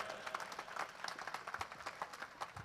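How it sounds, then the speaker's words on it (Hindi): An audience at a devotional gathering claps briefly, a faint, distant patter of scattered handclaps with no voices on top. "तालियां बजाओ"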